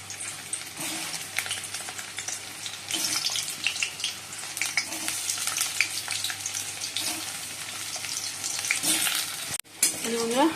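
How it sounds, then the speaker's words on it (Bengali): Steamed potato pieces frying in oil in a wok, a continuous close crackling sizzle with occasional stirring scrapes, fairly loud and steady throughout with no talk. "আলুগুলো ভেজে নিলাম"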